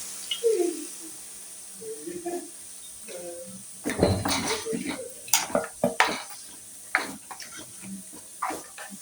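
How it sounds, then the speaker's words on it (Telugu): Fish pieces tipped into a pot of Korameenu fish curry with turmeric and fenugreek powder, giving a cluster of close clatters, scrapes and soft wet thuds from the pot and utensils, with light sizzling underneath. "ముందుగా మనం కలిపి పెట్టుకున్న చేప ముక్కల్ని వేసేద్దాం"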